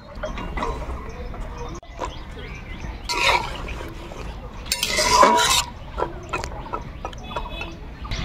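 Figs are tipped into a pan with turmeric and stirred, giving scraping and clinking of a utensil against the pan that swells in two louder bursts over quieter kitchen clatter.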